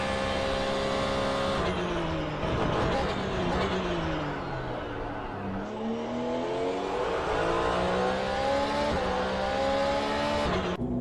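A Porsche 911 GT3 race car engine in a sim racing game revs hard, climbing through gears with repeated rises and drops in pitch, loud and continuous from the cockpit.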